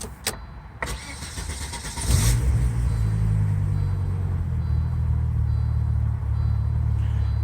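Engine of a 1996 Volvo 850R wagon cranks with a brief whine, then catches and settles into a loud, steady idle with a deep low rumble that continues alone after a few clicks and knocks.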